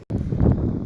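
Cold wind blows across a high desert homestead in Nevada, a close, low buffeting rush across the microphone that starts abruptly after a brief dropout.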